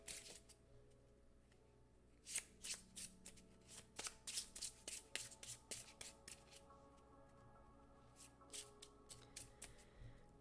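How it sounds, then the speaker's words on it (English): Close, crisp riffle-shuffling of game cards for a tabletop board game, a rapid series of ruffling bursts and taps that repeat steadily in a quiet room. "So we are going to shuffle these, and we are going to put 1 leader onto each of these."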